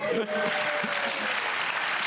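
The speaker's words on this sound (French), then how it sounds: "Donc on peut les applaudir aussi." A crowd claps steadily, a dense wash of applause filling the room from start to finish.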